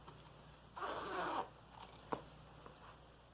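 A zipper for sewing a pouch is handled up close with one quick, rasping zip, followed by a few faint clicks and taps in a quiet room.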